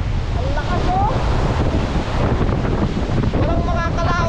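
Strong sea waves surge against the shore at Barangay Bito, Camarines, mixed with heavy wind buffeting the microphone in a constant loud roar, with a few faint voices underneath.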